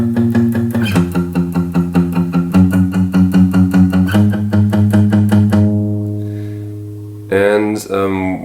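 A lower-pitched guitar part plays the chord progression alone in steady repeated picked chords, letting the last notes ring out before a brief bright strum at the end.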